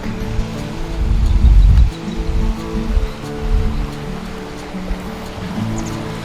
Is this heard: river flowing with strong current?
yes